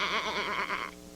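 Several voices imitate sheep together on a children's show, a loud, close "baa" with a pulsing, wobbling rhythm that runs for about a second before trailing off.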